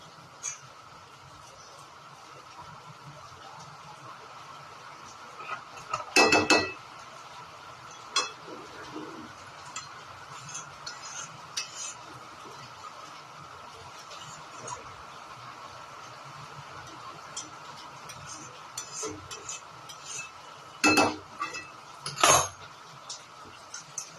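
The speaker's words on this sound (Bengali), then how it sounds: "এবার হালকা হাতে একটু নেড়ে দেবো" Jackfruit seed curry stirred gently in a pan, a few sparse clinks and scrapes of a utensil against metal over a steady low hum, close and fairly quiet.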